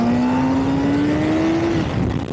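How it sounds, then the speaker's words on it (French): A 2025 Honda Hornet 1000 motorcycle engine revs up with a rising whine, loud and close, then drops off as the throttle is released. "le moteur il marche fort"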